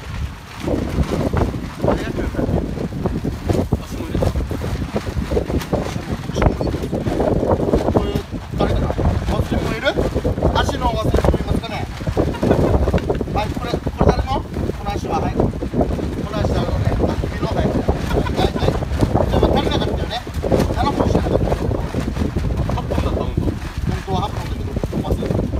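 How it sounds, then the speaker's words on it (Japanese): Strong gusting wind buffeting the microphone on a coastline during an octopus-hunting outing, loud, rumbling and continuous throughout, with people talking over it at times. "でもちょっと風が強いから"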